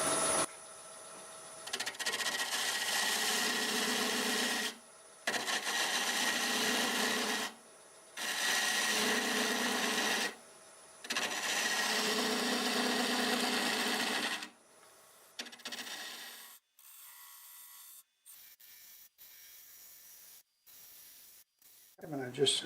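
Wood lathe turning a tangent stave vessel with a 1/2 inch bowl gouge at 898 RPM, steady loud scraping cuts in repeated passes broken by short pauses, then quieter intermittent handling toward the end.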